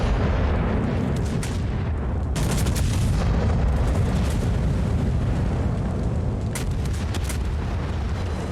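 Battleship Slava's main guns fire in World of Warships, giving heavy, booming blasts with a dense low rumble and a few sharp salvos standing out against a constant roar of battle.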